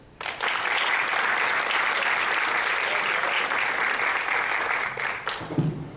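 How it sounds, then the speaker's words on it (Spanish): Loud, steady audience applause for a senator at a public event, dense sustained clapping from a crowd that starts abruptly and holds evenly for several seconds before tapering slightly. "Con ustedes, el senador Miguel Pereira, para el que pedimos un fuerte aplauso."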